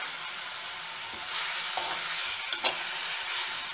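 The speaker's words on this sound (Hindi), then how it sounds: "इस तरह हमारी प्याज अच्छे से गल रही है।" Onions soften in a pan for ghughari with a steady, close hiss and sizzle that swells briefly midway. Faint spoon scrapes come through, and no one speaks.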